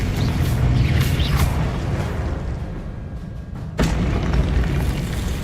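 A fiery Confringo blast spell from Hogwarts Legacy erupts as a loud, sustained rumbling boom, with a sharp crack partway through followed by renewed roaring impact noise.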